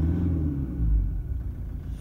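A diesel engine with a rough idle, 7 years old with 150,000 km and overdue injector changes, gives a low, uneven rumble close by with slight wavering surges and no voices.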